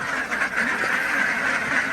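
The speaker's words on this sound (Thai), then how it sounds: "เดี๋ยวผมจะให้ดูเป็ดนะครับงามยืนมารตัวเป็ดอ่ะ" Ducks on a Thai egg-laying duck farm quacking continuously in a dense, nasal chorus of many birds at close range.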